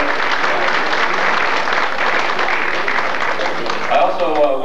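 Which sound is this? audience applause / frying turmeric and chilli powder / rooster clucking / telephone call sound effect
audience applause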